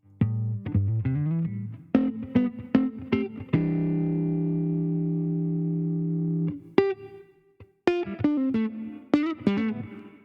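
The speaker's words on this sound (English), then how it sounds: "This is a little sparkle just to add more ambience to our sound." Plucked electric guitar notes and a long sustained chord ringing out with a shimmering, spacious reverb tail, then more picked notes, clear and prominent.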